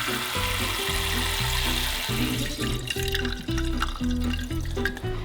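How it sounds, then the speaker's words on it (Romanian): Water poured steadily into a pot of rice for vegan sushi, a continuous loud splashing and gurgling stream that holds throughout with slight changes in flow. "haideți să punem acum și o ceașcă și un"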